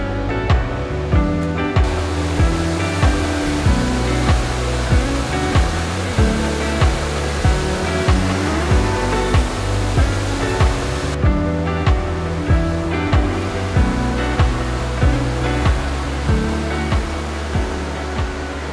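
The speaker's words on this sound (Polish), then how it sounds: "Ten wodospad, który widzieliście, to są, z tego co pamiętam, grzmoty Mickiewicza." A waterfall in Poland, known as Grzmoty Mickiewicza, roars as a loud, steady rush of falling water. It carries on unbroken and close throughout, with no voices.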